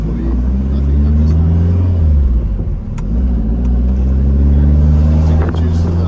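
A Maserati Shamal engine rumbles and revs while driving, its pitch rising and falling through the gears in a steady, loud, close drone, with people talking over it.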